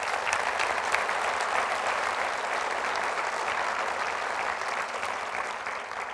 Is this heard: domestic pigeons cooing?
no